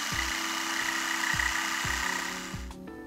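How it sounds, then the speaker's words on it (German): Repeated short bursts of a power drill and saw cutting into a wooden floorboard, a steady mechanical whine with rhythmic thuds, close and fairly loud with no talking. "Bohren Sie 10 mm größer und sägen schräg zur Wand aus."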